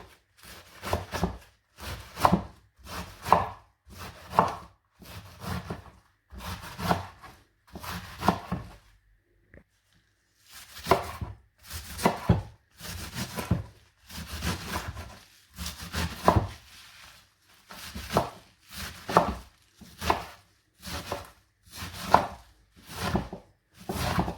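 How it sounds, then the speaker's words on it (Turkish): Steady rhythmic knife chops dicing cabbage on a cutting board, crisp and close, in bursts of quick strokes with a short pause midway. "Uygun şekilde küp küp doğrayalım arkadaşlar"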